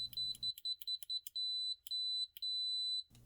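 A GVDA GD128 digital multimeter with Probe Master probes gives high continuity beeps, first a quick run of short stuttering chirps and then a few longer steady tones, clear and close, with no voices.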